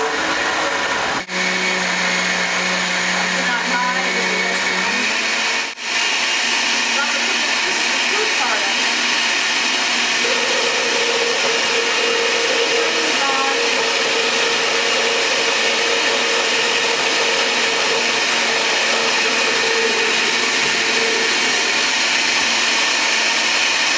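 A blender whirs continuously as apples are blended into a fruit smoothie, a loud, steady motor drone with pitch shifts as the load changes, and a person talks over part of it.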